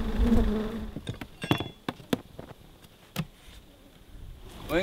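Honeybees buzz around an opened hive during requeening, a close, wavering drone with individual bees zipping past the microphone and occasional knocks of hive boxes being handled.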